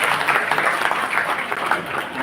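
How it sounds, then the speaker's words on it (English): An audience at an HR conclave applauds for Keka, a dense, steady wash of many hands clapping at moderate loudness throughout, with faint voices underneath. "So big round of applause for Keka,"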